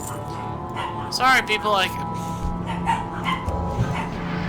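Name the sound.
dogs barking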